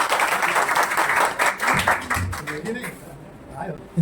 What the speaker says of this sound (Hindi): एक बार जोरदार अपने माता पिता के लिए एक बार जोर से तालियां बजा दीजिए